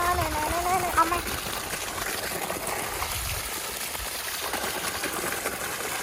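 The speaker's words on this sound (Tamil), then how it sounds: "மோட்டர் போட்டிருக்குது தண்ணி வருது ஃபுல்லாக கிணறு தண்ணி வருது" Steady rushing and splashing of well water pumped continuously by a motor, with a mechanical hum underneath and a person talking briefly at the start.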